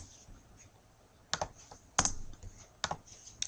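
Computer keyboard keys tapped in short bursts while formatting a list in a web editor, with repeated backspace and enter presses giving a few sharp, close clicks separated by quiet pauses.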